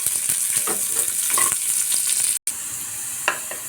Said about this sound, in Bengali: তারপরে আমি ওই গাজর কুচি, লঙ্কা কুচি ও পেঁয়াজ কুচিটাকে তেলের মধ্যে দিয়ে দিলাম।